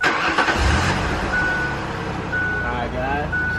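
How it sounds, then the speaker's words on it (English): A car engine starts after an exhaust muffler leak repair, cranking and catching with a low rumble, then idling while a high electronic beep repeats at intervals over the running engine. "I can start the car one more time for y'all before I exit this video."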